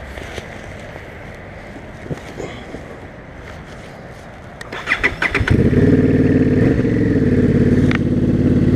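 A motorcycle on a morning commute, first heard through steady wind rush, then an engine starts up around halfway and settles into a loud, steady idle and rumble close to the microphone.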